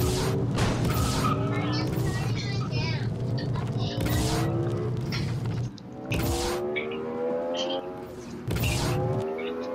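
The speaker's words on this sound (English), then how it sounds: "This car is so slow." A car driving in the Roblox video game, a steady engine drone with rising and falling tonal whines and occasional sharp bursts, running continuously under a voice talking.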